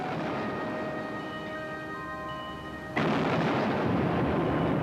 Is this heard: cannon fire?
yes